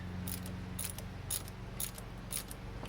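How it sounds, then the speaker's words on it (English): A hand ratchet tightens a 10 mm nut on a 2006–2016 Chevrolet Impala airbag module mount, giving about five short metallic clicking bursts spaced roughly half a second apart, close and faint over a low steady hum. "Now you can take your 10 mil, tighten down the nut on here."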